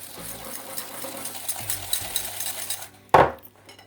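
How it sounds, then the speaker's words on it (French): Softened butter and caster sugar being whisked in a bowl, a soft continuous scraping and stirring that ends with one sharp clink of the whisk against the bowl. "Je mélange à l'aide du fouet"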